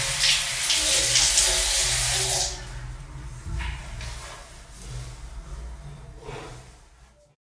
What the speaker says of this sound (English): I wash my face and then wipe it off